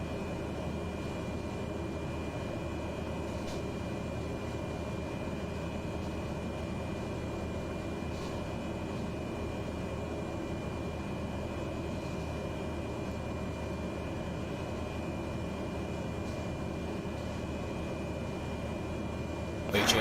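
Cessna 208 Caravan engine in a flight simulator game, a steady droning turboprop hum running without a break at moderate level, with a voice talking over it at times.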